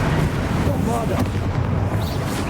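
A Bombarda spell explosion in the Hogwarts Legacy video game gives a loud, sustained rumbling blast with spoken commentary over it.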